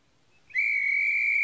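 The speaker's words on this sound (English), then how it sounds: "Oh, that's my conductor's whistle." A conductor's whistle on a toy wooden railway gives one sustained, shrill, steady blast that starts abruptly after a brief quiet moment and holds loud and clear to the end.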